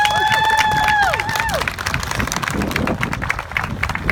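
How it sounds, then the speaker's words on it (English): Applause at an ALS walk after a speech, a crowd outdoors clapping loudly and steadily with some cheering, preceded by a brief whistling tone that fades as the clapping continues. "Another big round of applause for Amanda."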